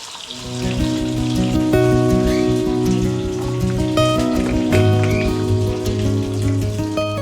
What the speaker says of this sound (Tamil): வெங்காயமும் பூண்டு போட்டுடுறேன்.